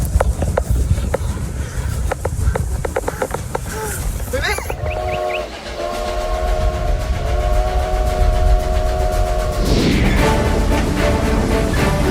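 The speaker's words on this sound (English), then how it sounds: "Where's the train? Hey, you hear that?" A train rumbles past with clattering wheels and a sustained horn blast in the middle, while people talk nearby.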